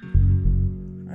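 A deep, sustained bass note from a song mix enters after a brief moment and holds with a strong low rumble before easing off, heard alone without talk.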